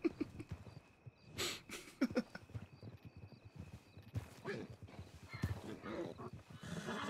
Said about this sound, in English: Oh, he's a ghost donkey in the storm.